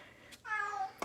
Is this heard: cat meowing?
yes